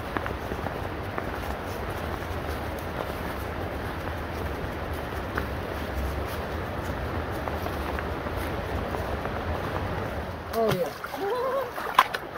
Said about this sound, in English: wintertime water fording